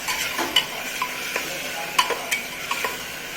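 Ginger-garlic paste fries in a pan over full gas for masala rice, a soft steady sizzle broken by sharp spoon scrapes and stirring clicks, with no talk.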